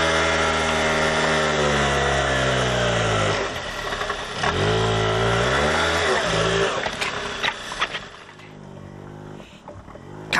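A bogged vehicle's engine revs hard and strains, pitch rising and falling in long surges with the clutch labouring, loud and close, ending in rougher uneven bursts.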